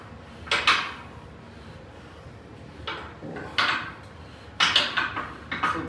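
Metal safety bars set into a weight rack at a gym lifting session, a few separate clanking impacts with scraping, spread over several seconds against quiet room noise.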